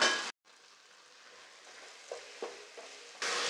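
Chopped capsicum with tomato frying in a pan gives a soft, low sizzle between louder bursts at the start and end, with a few scraping stirs in the middle.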